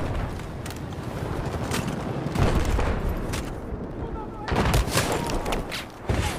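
Gunfire in Battlefield 4 online multiplayer on PS4, dense bursts of shots and heavy booms at close range, swelling and easing in waves, with voices talking over the battle.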